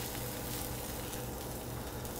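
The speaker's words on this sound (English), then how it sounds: "You want that sizzle." Sea scallops searing in hot canola oil give a steady, soft crackling sizzle that holds at an even level throughout, close to the pan.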